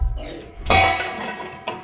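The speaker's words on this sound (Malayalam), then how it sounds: "ഇത് ചട്ടി വെച്ചു" A clay pot is set down on a stove with a single clunking knock and brief rattle, then a short second clink, close and fairly loud.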